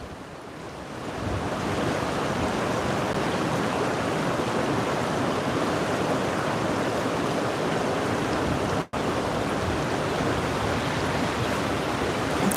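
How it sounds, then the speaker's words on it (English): Gusty wind by Resurrection River roars steadily into the microphone as a broad, close rushing noise, broken by a brief dropout near the end. "Ooh, gusty."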